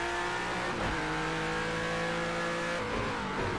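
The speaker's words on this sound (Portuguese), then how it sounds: "Olha o barulho do carro." Race car engine in the video game Project Cars 2: a loud, steady high-revving drone with brief gear-shift dips, heard alone without talk.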